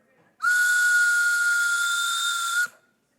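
A single loud, steady whistle blast sounds for about two seconds with a breathy, steam-like tone, then cuts off abruptly.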